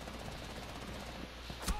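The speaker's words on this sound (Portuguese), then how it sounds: "tô levando um tiro" Rapid automatic gunfire in the online shooter game Rainbow Six Siege, a fast rattling burst under steady game ambience, ending in a louder sharp shot near the end.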